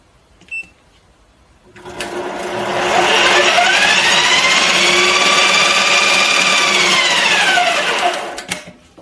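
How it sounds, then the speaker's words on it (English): A bench lathe runs with all its change gears engaged and rotating, giving a loud, steady mechanical whine with a rattling gear hum that spins up, holds for several seconds, then winds down. "I'll just run it so you can hear it with all the gears rotating."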